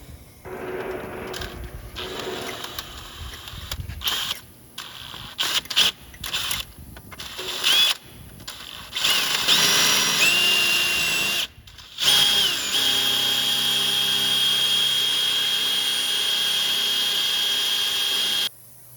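Drilling out a rusted cotter pin on a 2012 Toyota Matrix during a front wheel bearing job: a power drill whines in short bursts with pauses, then runs in longer sustained stretches, close and alone.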